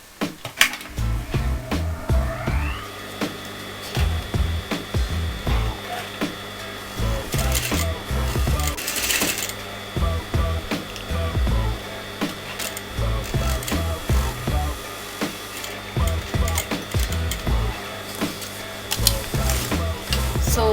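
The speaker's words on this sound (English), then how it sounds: "now I'm going to sew at the exact margin of this fabric" A sewing machine stitches right along the edge of the fabric for a designer kameez neckline, running in short repeated bursts of rhythmic mechanical clatter with brief pauses between runs.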